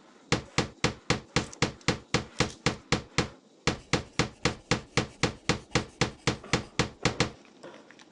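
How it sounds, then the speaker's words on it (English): A hammer nails wooden support pieces together in the Tonka Workshop game, striking in a fast, even series of sharp knocks, about a dozen blows, a short pause, then another dozen, loud and close with no voices. "Now nail together the support pieces with the hammer."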